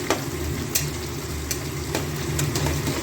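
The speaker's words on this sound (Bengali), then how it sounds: "এবার দিয়ে দেবো এতে গোবিন্দভোগ চাল" Gobindobhog rice fries in a pan with ginger and green chilli, giving a continuous close sizzle with several sharp scrapes and taps as it is stirred. No one speaks.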